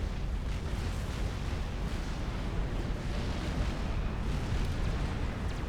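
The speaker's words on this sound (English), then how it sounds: "there go the TAC missiles" Tactical missiles striking targets in the real-time strategy game Supreme Commander, a dense continuous rumble of explosions and bursts layered together at steady loudness with no talking.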